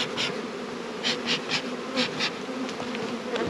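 Honeybees buzz steadily during a hive inspection before almond pollination, a dense close drone with individual bees swelling louder as they pass near, no voices.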